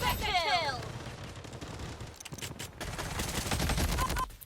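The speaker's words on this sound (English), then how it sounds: "the AR-97 is a great weapon to use" An AR-97 burst assault rifle fires in the video game Bloodstrike as a dense, continuous volley of loud shots that spans the whole stretch, heard close with a brief dip partway through.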